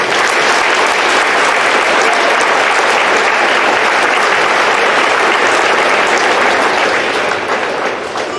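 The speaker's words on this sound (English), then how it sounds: "So let's give yourselves a big round of applause, please." Loud, dense applause from a large crowd at a boys' and girls' state basketball pep rally for Central Lyon, a sustained roar of clapping that holds steady for several seconds before easing slightly at the end.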